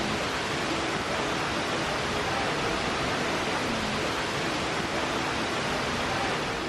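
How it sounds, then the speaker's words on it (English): A constant, dense roar of a 400-foot waterfall cascading over a cliff in the distance fills the air, a steady wash of noise with no voices. "You can hear this gigantic waterfall in the distance,"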